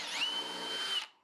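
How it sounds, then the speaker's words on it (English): A power drill fitted with a countersink bit whines steadily while boring a screw hole in wood for a stepstool, one continuous near, loud run of about a second that cuts off and fades. "drill out where I need to put some screws"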